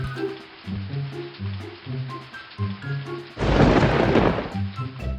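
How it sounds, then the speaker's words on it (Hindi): Rain falls over a soft musical backdrop, and midway a heavy rumble of thunder breaks in loudly before fading. "बिजली की कड़कड़ाहट के साथ बारिश भी शुरू हो गई।"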